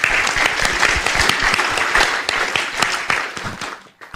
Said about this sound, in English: I'd like us all to give a round of applause to our panelists.